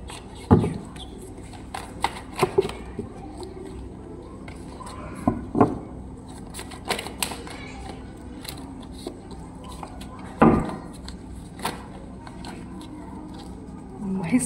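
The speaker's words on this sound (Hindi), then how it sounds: "बड़ी स्पीड में कार्ड्स आ रहे हैं आज तो।" Tarot cards being shuffled and flicked by hand during a reading, with irregular papery riffles and sharp slaps scattered across the span, near, while a voice talks quietly in between.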